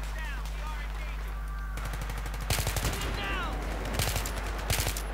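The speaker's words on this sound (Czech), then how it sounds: "vám ukážu, jak se s ní střílí" M416 assault rifle fired in Battlefield 3, heard as short bursts of loud gunshots from about 2.5 s on over a steady game hum, with cartoonish whistling effects earlier in the clip.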